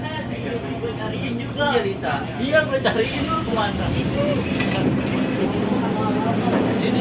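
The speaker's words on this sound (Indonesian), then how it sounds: "Nah di jalur sebelah ada KRL Jalita" A KRL electric commuter train at a Jakarta station rumbles past on the next track, a broad low roar and rattle that holds steady throughout, with people talking nearby over it.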